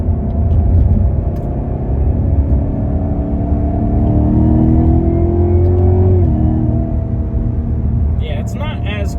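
A Cadillac CTS-V engine in track mode drones loudly and steadily, climbs in pitch as it revs, then drops sharply at a gear shift before settling again.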